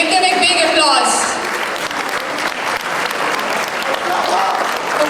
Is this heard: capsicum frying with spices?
no